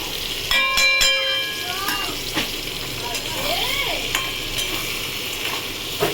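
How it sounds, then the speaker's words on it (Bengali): Turmeric, chili and coriander powder fry in a hot pan for a vegetarian vegetable dish, a steady close sizzle with spoon stirring and scraping, while a voice talks over it and a brief ringing tone sounds early on. "এবার এই মশলাটা দিয়ে দেবো, হলুদ গুঁড়ো, লঙ্কার গুঁড়ো, ধনের গুঁড়ো।"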